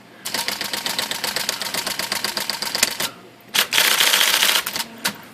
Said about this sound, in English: Put the roller back in here so we can continue typing on it as needed.